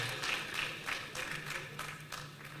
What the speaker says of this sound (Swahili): Haya, makofi kwao.